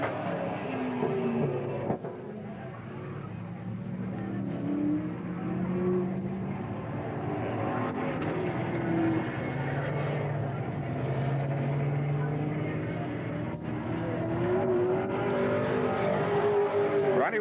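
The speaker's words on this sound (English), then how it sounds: "On the track right now, another winner of one of our Saturday night main events here this year. Driving a Chevrolet Nova four-wheel drive powered by a 454" Chevrolet Nova four-wheel-drive race car with a 454 engine running on a speedway track, a steady distant engine drone heard throughout beneath faint announcer talk.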